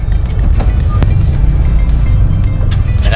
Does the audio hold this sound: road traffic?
yes